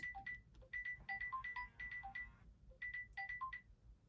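A mobile phone ringtone repeats a bright melodic pattern of short electronic tones in bursts, ringing steadily and fairly clearly over a low background hum with no talking.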